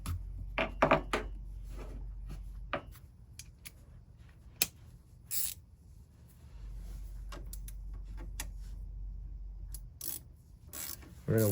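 A socket tool is wound in by hand to pull out a generator impeller, giving quiet scraping and ratcheting clicks with a few sharper metallic knocks, close and soft against a low hum.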